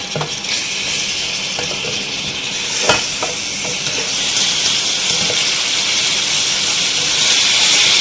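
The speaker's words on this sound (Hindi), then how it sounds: "टमाटरों को भी इसके साथ अच्छे से हम भूनेंगे 4 से 5 मिनट तक।" Mutton, onion and tomatoes frying in a pan for aloo gosht, giving a loud continuous hissing sizzle that swells as the fresh tomatoes go in, with a few faint stirring knocks and no talk.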